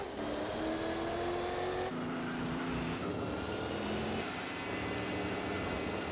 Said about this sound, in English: Chaparral 2D race car